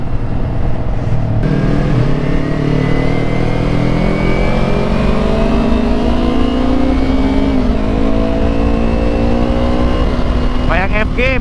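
Motorcycles, including Ducatis and other big bikes, ride and rev along Jalan Sudirman in a loud continuous engine roar with rising and falling pitch. A sharper rev bursts in near the end.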